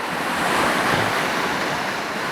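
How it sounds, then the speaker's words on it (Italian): A steady, broad rush of flowing water fills the scene, with a waterfall pouring in the distance beyond a stream in a landscape; continuous, moderately loud and even, with no voices. "c'è l'acqua che scorre in questa direzione e fa giù sullo sfondo la cascata principale"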